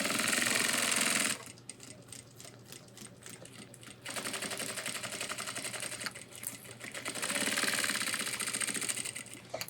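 A sewing machine stitches a backpack strap for an ultralight 30-litre hiking pack, running in rapid mechanical bursts with short pauses between them, loud and close, with no talking.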